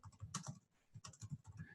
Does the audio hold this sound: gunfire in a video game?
no